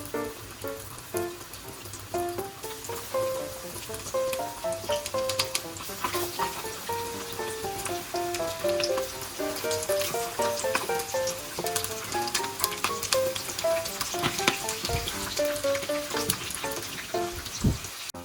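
Chicken pieces crackle and sizzle in hot oil during the first frying for Korean fried chicken (dakgangjeong), a dense, continuous spattering with sharp pops, close and loud, with no talk.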